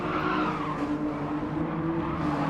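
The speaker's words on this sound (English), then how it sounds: "Oh, just lost the rear." A race car in a racing video game loses its rear and spins out, a short sustained skid and tire squeal over steady engine noise, with no talk.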